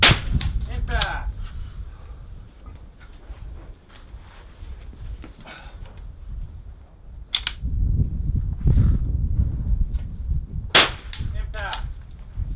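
Rifle shots at an NRL22 match ring off steel targets, several sharp bangs each followed by a bright metallic clang, spaced a few seconds apart over low outdoor rumble and handling noise, with no talking.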